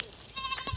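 Goats bleating in a farm village, one short wavering bleat rising in the second half of a brief moment, fairly close and clear over quiet background.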